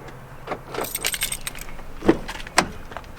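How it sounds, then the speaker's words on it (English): A bunch of vehicle keys jangles in a pocket or hand, quick metallic clinks and rustles with a couple of sharper chimes, close by and brief. "having constant sets of keys in your pocket and trying to find the right set of keys"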